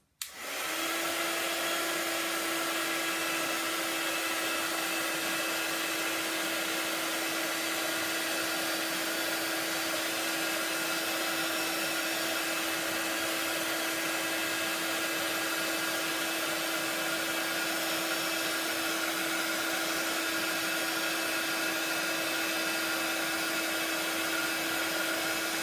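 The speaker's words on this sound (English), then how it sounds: "it's a little bit noisy with the embossing tool" Embossing heat tool melting embossing powder during a double embossing craft technique, a steady, loud blowing whir like a hair dryer with a constant hum, running unbroken from start to finish with no talking.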